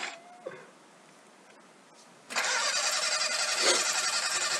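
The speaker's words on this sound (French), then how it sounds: "Les bruits de mobilette pour les chasseurs, là." Buzzy, moped-like engine drone of fighter craft in a Darth Vader computer game, cutting in loudly and steadily after a brief quieter stretch and holding for several seconds.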